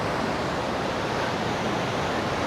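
Water flowing steadily at Muktinath in Nepal, a constant broadband rush with no breaks, close and fairly loud, alone with no talk over it.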